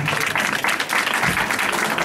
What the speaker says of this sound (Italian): Un applauso per la nostra amica Angela.